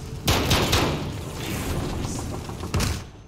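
Call of Duty: Modern Warfare gunfire inside a burning mine: a quick cluster of close, booming shots, then a rumbling lull and another sharp blast near the end.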